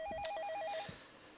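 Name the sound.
telephone ringing in a scary video game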